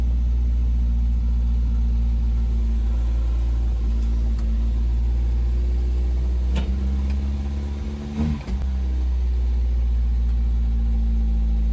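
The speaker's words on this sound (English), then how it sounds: "It's idling too high." An old MGB sports car engine idling too high, a loud, steady low-pitched rumble with a constant drone that holds throughout, briefly dipping near the end, with a few faint clicks and no talk.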